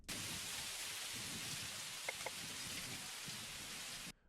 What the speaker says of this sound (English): Rainy Day in the Forest.